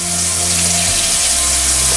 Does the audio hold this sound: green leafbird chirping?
no